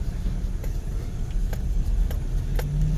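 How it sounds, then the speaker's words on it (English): An Opel Corsa with automatic transmission idles and pulls while climbing an off-road slope, its engine a steady, loud low rumble close by, with faint clicks and rattles over it. "So the engine is not stopping even if the car is going backward and the car was in drive."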